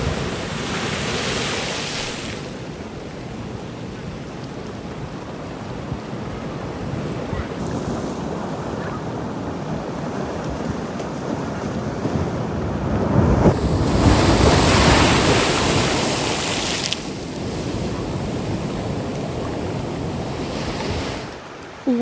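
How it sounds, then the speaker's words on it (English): Ocean waves crash steadily at high tide on Bathtub Beach, a continuous loud roar of surf with heavy wind buffeting the microphone, swelling louder midway through. "it was a higher tide and see all the waves crashing"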